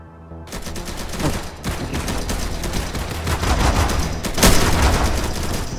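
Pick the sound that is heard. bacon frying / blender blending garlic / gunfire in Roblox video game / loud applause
gunfire in Roblox video game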